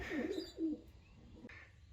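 Racing pigeons arriving home from a 180 to 250 km race give a few low, soft coos close at hand, brief murmuring calls separated by short pauses.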